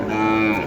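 A single loud, sustained Sahiwal calf moo with a steady tonal drone, close by at a cattle market, lasting the whole moment with no talking.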